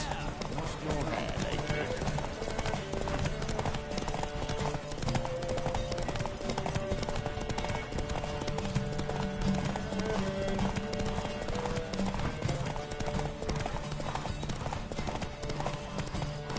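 Rhythmic hoofbeats of a galloping horse pound steadily under a busy soundtrack from The Witcher video game, with voices and effects layered on top.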